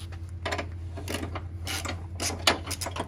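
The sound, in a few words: screwing loose Ford F-250 bumper retainer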